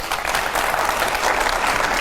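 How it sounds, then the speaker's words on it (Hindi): Studio audience at a Hindi TV debate show gives vigorous applause as guests walk in, a loud, dense and steady burst of clapping throughout. "जोरदार तालियां हो"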